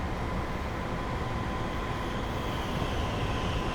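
A Thameslink-route passenger train in Train Simulator 2019 runs steadily under notch 2 power near West Hampstead, a dense continuous rumble of wheels and traction with a faint tonal whine, no voices over it.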